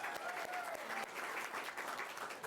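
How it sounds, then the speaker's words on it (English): An audience claps steadily for a few seconds at a governor's proclamation ceremony for Women's History Month, a dense, even patter of applause filling the room. "So I would like to applaud Nancy Campbell Mead."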